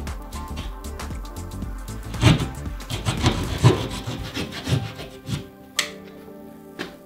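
Drywall being scored and cut between wall studs with a hand saw, heard as a steady run of rough, woody rubbing and rasping strokes, close and moderately loud, with several sharper scrapes toward the end.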